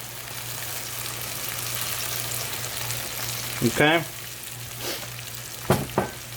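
Ouzo poured into a hot shrimp saganaki pan sets off a loud, continuous sizzle and crackle, with a brief spoken word and a few clinks partway through.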